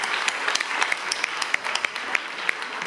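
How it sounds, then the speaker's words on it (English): Gala audience applauding in a steady, dense wash of clapping with scattered sharper individual claps standing out, continuous through the whole stretch. "I just want a big hand of applause."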